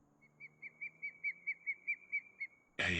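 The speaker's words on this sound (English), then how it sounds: "That's actually a bald eagle." A bald eagle call in the farming video game Farming Simulator 25 on the Old Coastlands map: a run of about ten quick, high, piping chirps in a steady rhythm, ending in a sudden loud noise burst.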